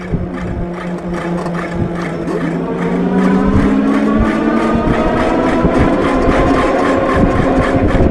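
Hovsco GTSR e-bike motor running at full throttle, a steady electric whine with rising tonal hum and constant road rumble, growing slightly louder partway through, with no voices.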